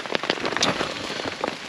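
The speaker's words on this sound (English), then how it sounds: "this way, less rain's coming in from the back end" Rain drums on a camping tarp in a wilderness area, a dense steady patter of close drops with occasional louder splats and no voices.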